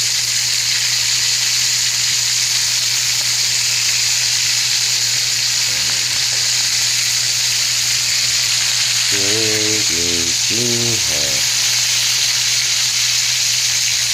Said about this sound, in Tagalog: Kasalukuyan, patuloy pa rin maingay ang mantika.